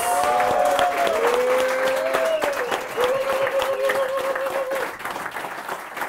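An audience at a German talk show event applauds, sustained dense clapping with a faint tonal line running through it and a slight easing toward the end.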